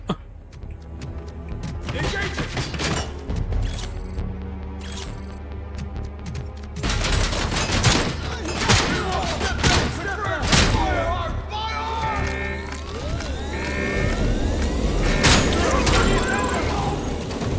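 Sustained gunfire from a firefight in the Robocop: Rogue City video game, dense rapid shots and booms running continuously and loud, with a low mechanical hum beneath.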